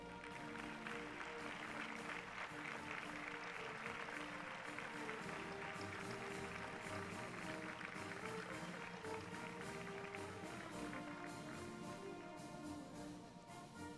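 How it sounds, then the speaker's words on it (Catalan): Sustained applause from an audience at a Moors and Christians festival presentation in Calp, honoring the association's flag bearers, a dense steady clatter of clapping filling the whole stretch with music tones running beneath it. "Demanem un fort aplaudiment per a elles."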